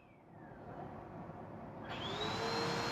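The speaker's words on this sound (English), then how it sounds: "Oh, somebody's running the vacuum!" A vacuum cleaner whirs steadily in the background, its pitch rising and the noise swelling louder as the motor spins up.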